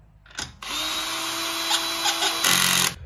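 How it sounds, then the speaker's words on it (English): A power drill spins wheel nuts onto a car wheel, whirring steadily for a few seconds at close range, with a brief rev at the start and a louder surge near the end before stopping. "So we can spin these nuts on with this, and it might sound like they're going up tight"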